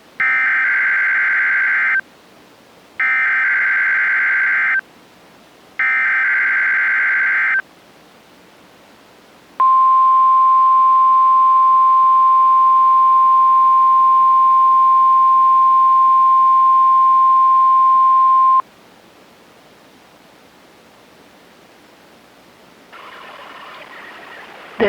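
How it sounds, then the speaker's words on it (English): NOAA Weather Radio warning alarm weekly test from the National Weather Service in Grand Rapids: three loud on-off bursts of a two-tone alert, then one long steady high tone lasting about nine seconds, followed by quiet. "The signal you just heard was our weekly test of the NOAA Weather Radio Warning Alarm System."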